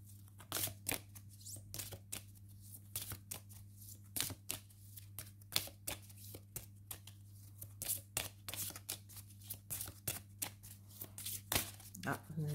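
Riffling and shuffling of a deck of oracle-style object cards, a steady run of quick papery flicks and snaps held close up, with a low steady hum underneath throughout.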